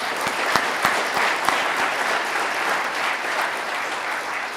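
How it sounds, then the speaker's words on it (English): A school audience at a Veterans Day assembly applauds, a dense continuous roar of clapping with a few sharp individual claps standing out early, steady and full throughout. "Can we give them another round of applause?"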